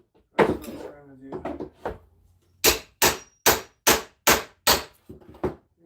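Claw hammer used during plywood work: a quick run of about seven evenly spaced, sharp, loud blows, preceded by brief talk and a few scattered knocks.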